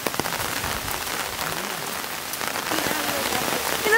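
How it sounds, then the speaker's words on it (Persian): Steady rain pattering on surfaces and an umbrella outdoors at a cave and river park in Mexico, a dense continuous wash of drops close by, growing slightly heavier toward the end. "چه بارونی شد."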